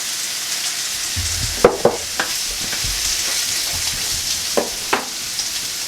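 Squash and green beans stir-frying in a pan over medium-low heat, giving a steady close sizzle with scattered clicks and scraping stirs, no talking.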